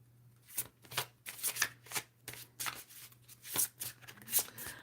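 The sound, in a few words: shuffling Otherworld Oracle cards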